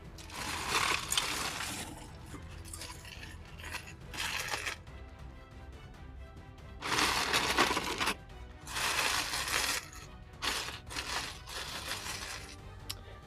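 A bag of large LEGO Star Wars pieces being unpacked, bursts of plastic bricks rattling and clattering against each other in several rough handfuls separated by short quieter pauses.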